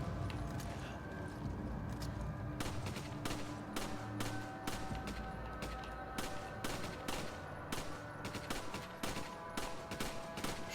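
Faint video game gunfire in Resident Evil 5: scattered bursts of sharp shots and rapid volleys repeat over a constant low background of game sound.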